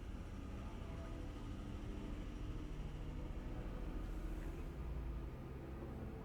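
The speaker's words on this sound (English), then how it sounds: "It was a truck passing by in the background." A truck passes somewhere in the background as a steady low rumble that holds through the whole stretch, fairly quiet, with no voices over it.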